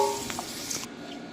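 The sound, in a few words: onions frying in hot oil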